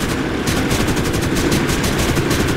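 Sustained machine gun fire in the War Thunder war game, a loud, continuous rapid-fire rattle of overlapping shots with no pause, dense and close throughout.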